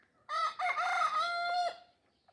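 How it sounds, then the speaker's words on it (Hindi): A single loud rooster crow, close and clear, rings out from a desi backyard flock of hens and a rooster, lasting about a second and a half with no talk over it. "चेक करो मुर्गियाँ।"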